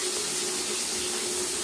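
Shower water sprays steadily onto a shower steamer tablet sitting just off the direct stream, a constant close hiss of running water with no talking.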